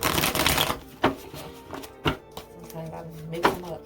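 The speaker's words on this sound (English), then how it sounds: "Let me shuffle these on." Tarot cards are shuffled by hand in short, sharp riffling bursts at irregular intervals, with a voice talking throughout.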